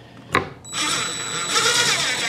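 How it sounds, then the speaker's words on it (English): A power driver sends a screw through the wooden body of a Fender P-Bass into its neck: a sharp click, then a loud, close, continuous whirring drive that rises slightly in strain as it tightens. "I'm screwing through the body to the neck"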